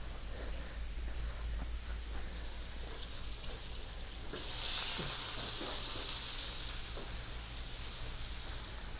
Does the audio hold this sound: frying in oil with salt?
yes